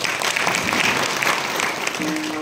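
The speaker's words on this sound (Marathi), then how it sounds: "एक वेळा त्यांच्या जरा टाळ्यांचा हात पडला." An audience at a kirtan applauds the singers, a full, continuous patter of many hands clapping at an even level, with a faint tonal sound entering near the end.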